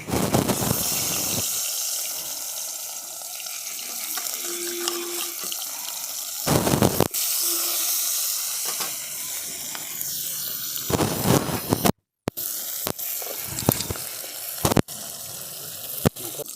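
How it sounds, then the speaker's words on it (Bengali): Salt-and-turmeric-rubbed river fish fry in hot mustard oil in a wok, a continuous loud sizzle broken by a few sharp bursts and clattering handling sounds, with no speech. "আর এদিকে আমি এই যে নুন হলুদ মাখিয়ে রেখেছিলাম মাছগুলো দিয়ে ভেজে নিচ্ছি।"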